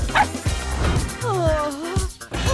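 A dog barks and yips with whimpering, close by, over a music background with tonal sliding sounds.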